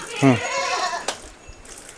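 A goat on a village dairy farm with buffaloes and cows gives a single loud, nearby wavering bleat, followed by quieter farmyard sounds and a brief voice.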